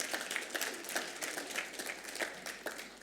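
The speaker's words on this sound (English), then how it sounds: "Please give him applause because that's his credit." Faint, thin applause from a conference audience at a blockchain week event in London for Louis, scattered clapping with a few distinct hand claps over a few seconds, heard from a distance.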